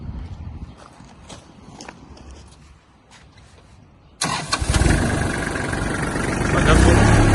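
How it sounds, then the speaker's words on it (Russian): Quiet rustling and light knocks give way to a small Kubota GT21 mini tractor engine suddenly starting and running at a loud, steady, rough idle. "Трактор работает чисто, приемисто, отлично."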